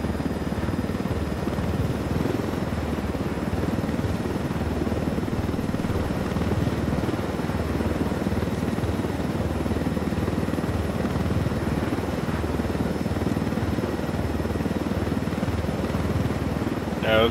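Helicopter flying in the video game Ghost Recon Wildlands, a loud steady rotor thrum and engine drone held constantly from start to finish, with a voice faintly under it.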